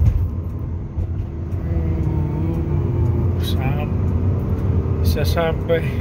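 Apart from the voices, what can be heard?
Mitsubishi Galant V6 driving in second gear on test drive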